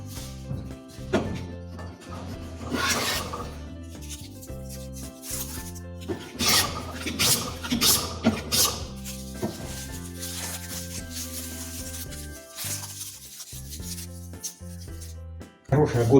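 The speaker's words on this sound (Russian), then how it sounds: "Сейчас я его заточил, ну и попробую построгать" A freshly sharpened, restored hand plane shaving wood in a series of irregular rasping strokes with brief pauses and knocks between passes, close and fairly loud.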